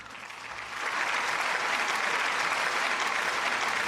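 A clap button plays an applause sound effect: a crowd clapping that starts softly and swells to a steady, full burst of applause with no voices.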